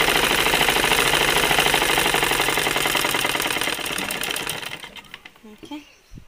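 Sewing machine stitching along the edge of a dress, a steady dense mechanical whir that runs loud for about five seconds before stopping, with faint handling sounds trailing after.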